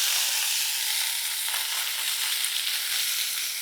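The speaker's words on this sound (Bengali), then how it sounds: "সর্ষের তেল দিয়ে ওটাকে হচ্ছে আমি একটু নাড়ব, নাড়লেই কিন্তু আমার এটা হয়ে যাবে" A shrimp and cabbage mash sizzles as it is stirred in hot mustard oil in a pan. The frying is loud and steady with a bright, hissing crackle, and there is no talk over it.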